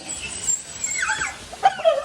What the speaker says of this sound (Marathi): खाली कुत्रे आहेत का बघू दे